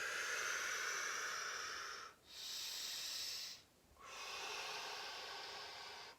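Slow, deep breathing during a chair yoga session, with long airy inhales and exhales separated by two short pauses, close and steady with no talking.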